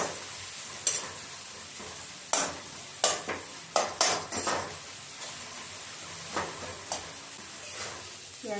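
Onions frying in a pan with cumin, a little salt and a pinch of turmeric as the base for fish curry, a steady sizzle broken by spoon scrapes and clinks against the pan at irregular intervals.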